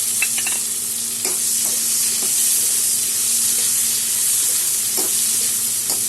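Chopped onion sizzles in hot oil in a pan after fried potatoes for a Bengali bata fish curry, a steady loud hiss with occasional spatula scrapes and stirring clinks, no talk.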